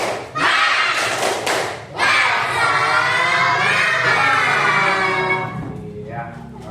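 Classroom of pupils doing a rhythmic clapping chant for an ice-breaking exercise, loud overlapping young voices shouting together with sharp claps, fading toward the end.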